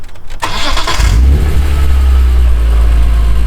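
A BMW E46 M3 with the S54 engine cranks briefly and then catches, settling into a loud, deep, steady idle right up close, with no talk.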